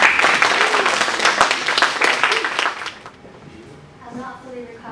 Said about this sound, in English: So please give a round of applause for us.